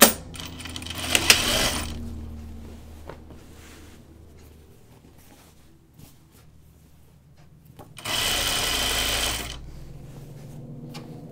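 A sewing machine stitches a sleeve seam on a shirt dress in two short bursts of whirring, with quiet handling and rustling of fabric between them.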